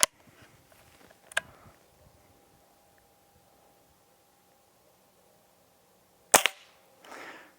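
Hatsan Model 25 Supercharger .177 air pistol firing, two sharp isolated cracks several seconds apart with a short rustling handling sound after the second, close in a quiet setting.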